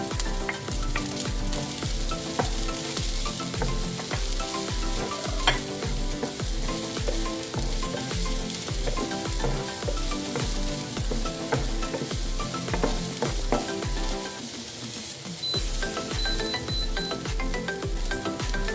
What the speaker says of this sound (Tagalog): Isunod ang sibuyas. At lutuin ito ng mga 30 segundo.